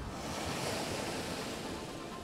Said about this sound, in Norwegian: Det er litt mye vind.